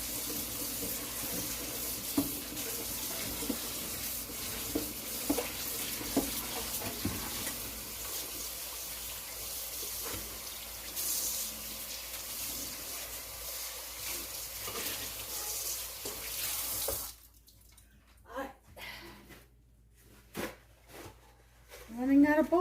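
A bowl being washed under a running kitchen tap, with steady close water rushing and splashing that stops near the end, followed by a few clinks and handling sounds.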